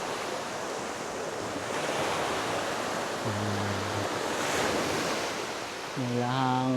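Sea waves roll in at a restaurant overlooking the gulf in Banay-Banay, Davao Oriental, forming a constant broad surf roar with gentle swells, while a voice speaks briefly over it twice.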